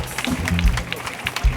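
Hand claps from a church congregation during fervent prayer, sounding as uneven, rhythmic bursts of clapping mixed with voices and low thumps, moderately loud and close.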